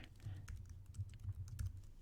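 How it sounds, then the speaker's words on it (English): Close, quiet keystrokes on a computer keyboard as text is typed, an irregular run of soft clicks with no talking. "So I'm going to type in text here."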